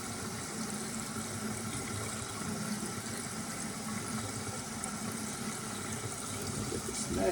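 Water running steadily while a container is rinsed out, a continuous close splashing wash with no speech.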